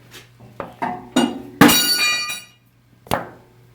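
The piston in a Case 1370 tractor engine cylinder is tapped with a metal tool in a series of sharp metallic knocks and clinks, one ringing longer, heard close with a faint steady hum behind and no speech.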